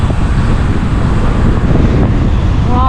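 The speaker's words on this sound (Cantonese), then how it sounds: "黐線啲風。" Strong headwind buffets a cyclist riding through Tokushima, Japan, a loud continuous roaring rush of wind noise across the microphone, steady throughout.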